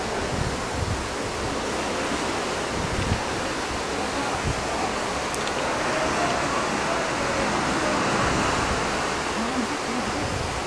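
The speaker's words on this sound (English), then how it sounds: "See, the swells are coming in." Ocean swells seen from a cruise ship: a broad, continuous rush of waves and wind, steady and fairly loud throughout.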